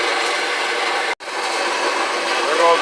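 A 1955 Chevy rear axle being cut, a steady, loud, harsh grinding roar that drops out for a split second before resuming just as strongly.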